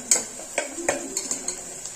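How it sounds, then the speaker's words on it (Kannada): Crushed ginger and garlic fry in a pan under a soft, even sizzle, with a spatula tapping and scraping several times in an irregular rhythm. "ಒಂದು ಸ್ವಲ್ಪ ಫ್ರೈ ಆಗಲಿ."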